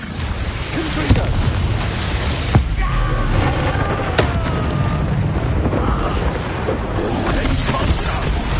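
Confringo fire blast spell in the Hogwarts Legacy video game, a series of booming impacts and crackling bursts over a loud continuous battle din, with sharp hits recurring every second or so.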